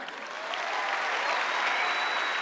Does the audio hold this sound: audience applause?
yes